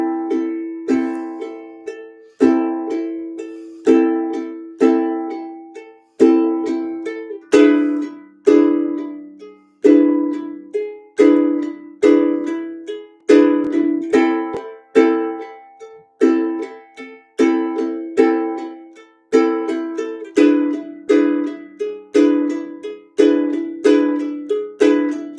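Ukulele played with a split stroke, crisp repeated strum patterns in a steady rhythmic cycle, played slowly through chord changes, close and bright with no speech.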